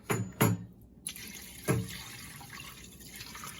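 Hot tap water runs steadily into a sink while raw meat is rinsed, with a few louder splashes and rushes at the start over a constant, fairly quiet flow and no talking.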